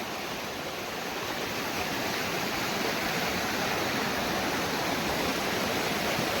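Stream water flowing where crab traps are set in Konkan, a dense, steady rushing wash with no breaks, close and even in loudness throughout.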